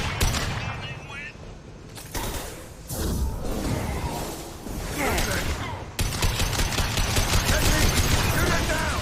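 Rapid bursts of gunfire aimed at a fuel tank in a Mass Effect firefight, growing denser and louder in the final stretch, with voices speaking between shots.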